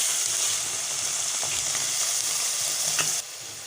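Minced keema frying in a pan, thawed from frozen with its oil starting to separate, gives a steady close sizzle with a few stirring scrapes, then drops quieter near the end.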